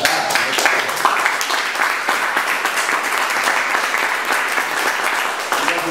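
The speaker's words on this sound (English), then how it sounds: "I think you ought to applaud that." An audience bursts into sustained applause, dense clapping holding at a steady, fairly loud level for several seconds, with a few faint voices mixed in.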